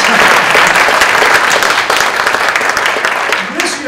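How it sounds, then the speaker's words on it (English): Dense, steady applause from an audience at a university lecture marking the inauguration of an endowed chair in applied critical thinking, a loud continuous wash of clapping lasting throughout. "yeah, we can clap."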